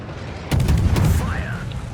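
Ship guns fire in the naval video game, played as the Cossack, in a heavy booming burst with a few rapid reports, close and loud, followed by a rising whistling tone as the shells fly.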